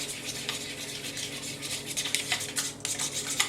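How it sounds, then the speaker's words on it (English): A whisk stirs yogurt starter in a bowl, quick scraping and swishing strokes in an uneven rhythm that grows busier toward the end, close and alone. "This is professional whisking."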